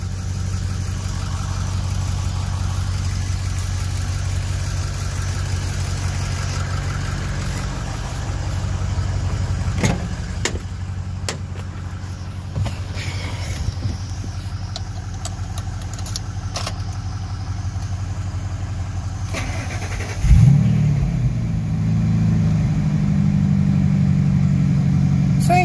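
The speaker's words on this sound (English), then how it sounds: "this thing revs real high when it's been sitting a while and it starts up" An old car engine that has sat unused starts, then idles steadily with a rough rumble, surging into a loud high rev near the end, with keys jangling at times.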